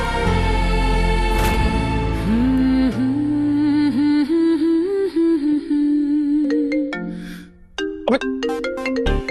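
A phone rings with an incoming call in a Hindi TV drama scene: a loud, continuous electronic ringtone melody with a steady tonal line and chiming notes, playing alone without talk, briefly dipping near the end.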